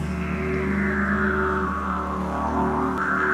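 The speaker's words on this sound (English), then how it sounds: "So this represents the heat rising on the hot summer's day in the outback of Australia." A didgeridoo drones low and steady in one long sustained tone with a wavering overtone sweep, evoking heat rising on a hot summer day in the Australian outback, loud and close with no talk over it.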